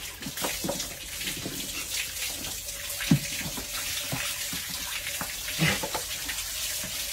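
Water runs steadily from a tap while someone's hair is washed, with a continuous close splashing hiss broken by occasional drips and small knocks.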